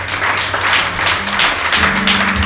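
Congregation clapping steadily during a Sunday church service, a dense, continuous round of applause with low voices murmuring underneath.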